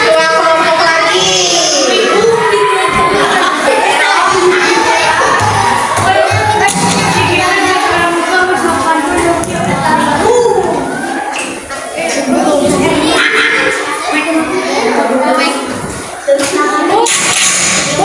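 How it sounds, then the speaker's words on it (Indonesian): Children in a classroom activity clap and cheer for a group, a noisy burst of applause, shouts and excited chatter that surges and then eases with a few loud peaks, while an adult speaks over the crowd. "Tepuk tangan untuk kelompok tulip."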